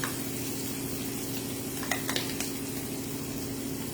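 Ginger garlic paste sautés in a pan over a low flame, giving a soft, steady sizzle with a few brief clicks of stirring, close and quiet, with no voices.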